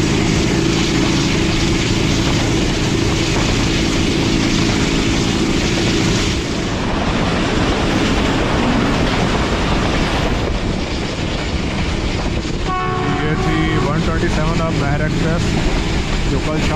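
The Thal Express, a passenger train travelling from Rawalpindi, gives a loud, steady rumble and rattle of carriages on the track, with sharper clattering near the end.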